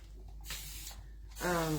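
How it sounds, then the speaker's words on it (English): Water is spritzed from a spray bottle into a small paint color tray, a couple of short airy hisses close by, the last one louder and longer, with no talking over them. "I'm going to spray some water in this little"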